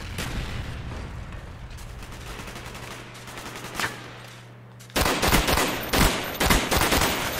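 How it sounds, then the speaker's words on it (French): A flamethrower fires on a Call of Duty: Black Ops firing range: a long hissing roar over a low hum, then a string of sharper, louder bursts in quick succession near the end. "Non, c'est un lance-feu, mon cher."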